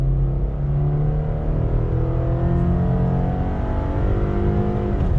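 A 2020 Subaru Impreza with a boxer engine pulls hard on throttle, its engine note droning steadily and rising in pitch as it accelerates, loud and continuous with no talk.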